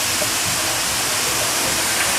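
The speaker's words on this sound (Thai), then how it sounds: "พอกระทะเริ่มที่จะร้อนนะครับเราใส่ใบกุ้ยช่ายลงไปได้เลยนะครับ" Garlic chive leaves hit a hot wok coated with oil and sizzle, giving a steady, close, loud hiss that holds for about two seconds with no talk.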